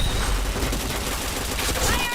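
Gunfire in the first-person shooter game Point Blank: a rapid, dense burst of automatic shots sustained for about two seconds, loud and close.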